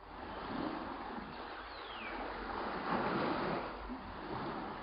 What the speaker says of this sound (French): j'ai la nette impression d'entendre des vagues